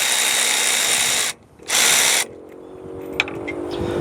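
A power drill whirs loudly in two bursts while removing 14mm bolts from an equipment guard mount, stopping briefly in between, followed by quieter mechanical clicks and clanks.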